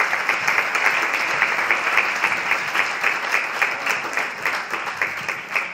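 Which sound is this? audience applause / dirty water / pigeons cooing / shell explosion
audience applause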